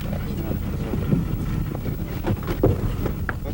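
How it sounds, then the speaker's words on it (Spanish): A National Forestry Corporation motor launch under way on the Aysén River, a steady close rumble of engine and rushing water mixed with wind buffeting, with faint voices briefly heard. "Nos embarcamos en una lancha de la Corporación Nacional Forestal"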